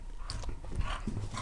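A dog plays with a ball nearby, giving scuffling, thumping and snuffling noises with a few soft vocal sounds, moderately loud and busy for the whole stretch.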